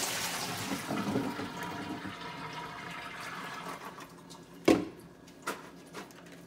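Soaked chunks of red potato tumble into a soup pot of hamburger soup: a wet splash followed by a couple of smaller plops and sloshes over a steady background hiss.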